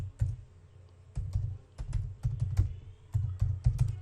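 Someone types a file name on a computer keyboard in Microsoft Excel, producing bursts of crisp key clicks in short irregular clusters, close and clear with no speech.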